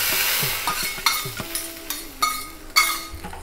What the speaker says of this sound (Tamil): ரசத்துக்கு வந்து கடுகு சீரகம் தாளிச்சிடலாம்